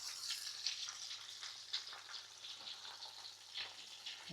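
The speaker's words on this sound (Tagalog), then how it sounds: "iisa-isahin natin iprito" Pieces of pork fry in a pan with a soft, steady crackling sizzle and scattered pops, faint and close, with no talking.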